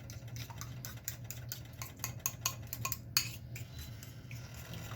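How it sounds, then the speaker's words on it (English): A whisk beats an egg mixture with honey, ground cinnamon and ground nutmeg in a bowl, producing quick, uneven clinking taps and scraping strokes, close and fairly quiet, with no talk. "So you got to whisk it very thoroughly to make sure that everything is mixed evenly."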